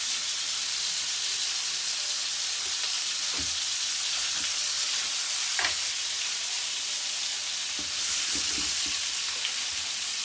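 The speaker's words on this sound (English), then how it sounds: "I'm going to add a little bit more butter now." Butter sizzles in a frying pan while cod cooks, making a steady, moderate hiss close by with a few scattered taps and scrapes from a utensil.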